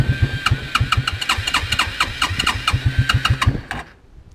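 A buried, stuck Quadrunner 300 ATV is cold-started in deep snow on full choke. Its engine chugs in rapid, uneven loud pulses for several seconds, then sputters and dies away into quiet.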